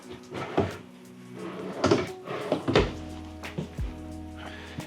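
Drawers in a 2024 East to West Alta 3100KXT RV slide open and shut several times, each ending in a hollow thunk or knock, close by and moderately loud with no talking.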